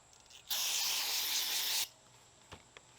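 Brake parts cleaner sprays in one sharp, hissing burst of about a second onto a Sanden 508 compressor head near the gasket, followed by a couple of faint clicks.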